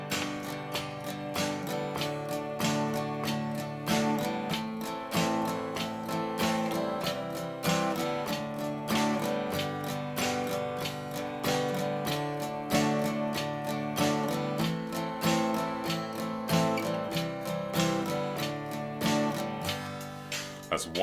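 Acoustic guitar strummed along with a drum machine beat, accents falling on the snare hits, in a steady rhythmic pattern that runs continuously and fairly loud with no talking.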